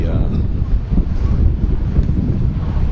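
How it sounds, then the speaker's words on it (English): Steady wind buffeting the microphone outdoors, a constant low rumbling roar throughout with no clear voices. "it's a bit windy today"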